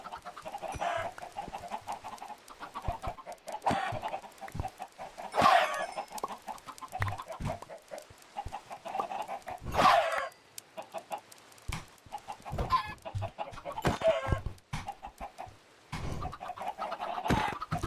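Chickens in the Minecraft video game cluck repeatedly through the stretch, short game clucks and squawks recurring at irregular intervals with a few louder bursts, no talking over them.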